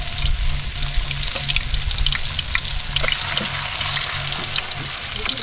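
Steady crackling sizzle of freshly caught food frying in hot oil, close and continuous, with a few faint clinks.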